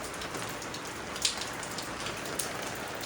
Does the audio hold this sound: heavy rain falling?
yes